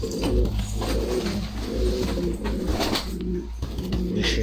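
Pedigreed flying pigeons coo steadily in a loft, overlapping low throaty calls filling the space with occasional wing rustles.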